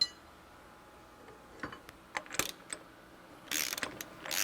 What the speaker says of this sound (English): Now we will tighten the bolt to push the bearing out of the plate.